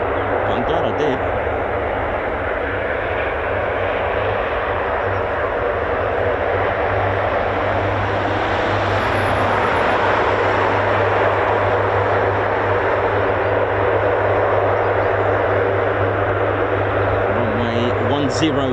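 Continuous heavy engine roar of a US Air Force military aircraft taking off from runway 10 at an RAF base, loud and sustained with little change, with a person talking over it.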